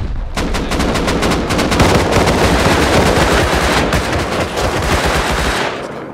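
Rapid automatic gunfire from the video game Rust, a loud, dense, continuous burst of shots lasting several seconds, close and dominating the scene.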